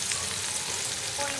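Fenugreek seeds and chopped onion frying in hot oil in a pan, a dense continuous close sizzle with faint stirring and no talking.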